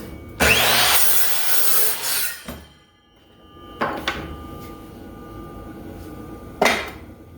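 Loud cordless 7-1/4 inch sliding compound miter saw bursts biting through wood, three separate cuts with a noisy blade whine and rasp, separated by quieter pauses.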